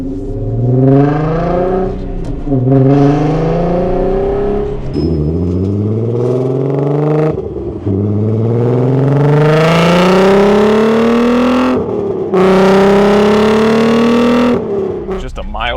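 A VW MK6 GTI with an all-wheel-drive 3.6L VR6 fitted with big cams revs loudly and repeatedly, rising harmonic sweeps climbing through each pull with brief lifts between, echoing as in a tunnel.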